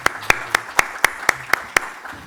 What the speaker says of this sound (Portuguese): Eu dou uma salva de palmas